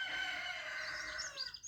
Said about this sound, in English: Shut up, cockerel.